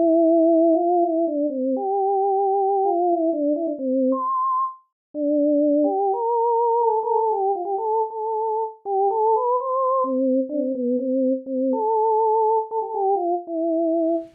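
Pipe organ plays a decorated chorale variation on Vom Himmel hoch, two clean flute-like voices moving in parallel through an ornate singing line, steady and mid-distance with one brief pause and no talking.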